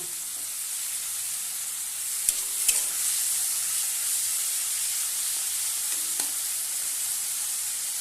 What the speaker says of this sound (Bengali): পোস্ত বাটা দিয়ে একটু ভালো করে ভেজে ভেজে নেবো